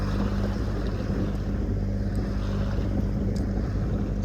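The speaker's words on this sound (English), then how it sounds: "Still motor sailing, only 4 or 5 knots of breeze, so just chugging away" A sailboat motor sailing in light breeze, its engine chugging in a loud, steady low drone with wind buffeting the microphone and water rushing past, no voices.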